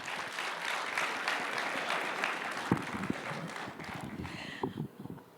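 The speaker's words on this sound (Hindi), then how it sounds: "तो जोरदार तालियां एक बार बजाइए, जिससे लगे कि आपके बीच शक्तिमान आ गए।" Sustained audience applause at a Samvad 2025 stage interview event welcoming actor Mukesh Khanna, dense clapping held steady for about five seconds before tapering off near the end.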